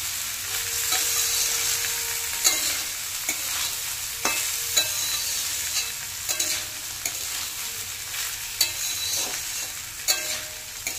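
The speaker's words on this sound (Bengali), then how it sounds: "দিয়ে ভালো করে একসাথে সব কিছু নেড়েচেড়ে মিশিয়ে নিলাম" Soaked Gobindobhog rice frying in oil for khichuri: a continuous close sizzle punctuated by regular scraping stir strokes of a spoon in the pan, no voices.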